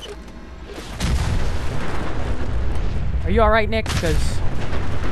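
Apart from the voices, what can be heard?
explosions in video game Fallout 4 Far Harbor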